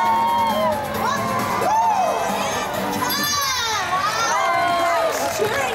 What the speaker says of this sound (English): Nice cheering, Team Blue.